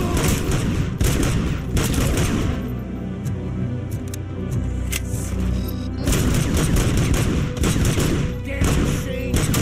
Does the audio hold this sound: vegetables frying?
no